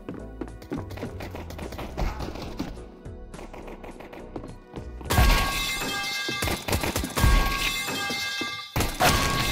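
Gunfire in a competitive shooter match, finishing with a headshot: sharp cracking shots and impacts arrive in bursts, sparse at first, then a louder, denser stretch of fire toward the end.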